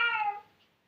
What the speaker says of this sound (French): Elle miaule, on dirait qu'elle pleure